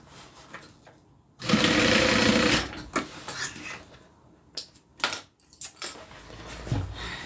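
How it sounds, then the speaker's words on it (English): A sewing machine stitches down the opened side seams of a small zip-around wallet in one loud, steady burst of about a second and a half, followed by quieter clicks and handling noises. "I'm just going to open up those side seams and just sew them down."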